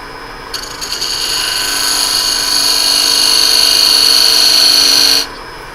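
Wood lathe spinning a thick ring blank under an aggressive cut, a loud steady whirring tone that holds for about five seconds and then cuts off abruptly.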